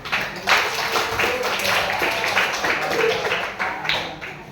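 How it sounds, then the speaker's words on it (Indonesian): Audience clapping in a classroom, a group of hands beating in a quick irregular patter that rises and fades, with voices mixed in. "Kita kasih tepuk tangan."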